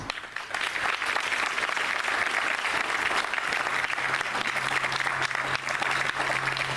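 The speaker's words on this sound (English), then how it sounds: "Please join me in a round of applause for that." A crowd applauds steadily at a military retirement ceremony, dense clapping filling the room for several seconds at an even, sustained level with no talk over it.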